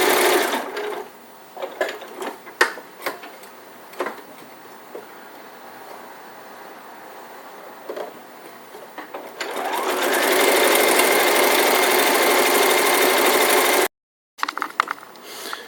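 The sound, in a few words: sewing machine sewing an elf hat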